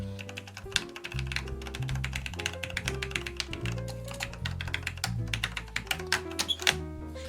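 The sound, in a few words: typing on Model F clone keyboard with linear Cherry switches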